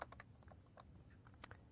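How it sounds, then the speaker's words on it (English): Rapid, uneven clicking of laptop keys being typed, close and fairly quiet, with short pauses between bursts and no voices. "Still getting used to typing on this new laptop's keyboard."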